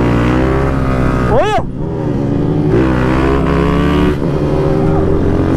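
A 160 motorcycle fitted with a 205cc engine revs hard nearby, its engine note climbing and falling in sharp surges, with a man's brief exclamation over it.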